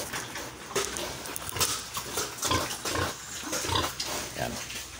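Several pigs, including pregnant sows, grunt and snuffle close by at feeding time, a busy, irregular chorus of short grunts and squeals that continues throughout.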